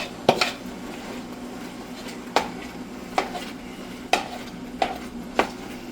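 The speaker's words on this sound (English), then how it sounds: "Now we got some onion." Onion sizzles in a pan as it is stirred, a soft steady frying hiss broken by several sharp clinks of a utensil against the pan, close and without talk.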